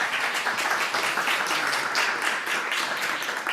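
An audience at an Italian presentation meeting applauds steadily, a dense, even wash of many hands clapping that fills the room throughout, with no one speaking over it.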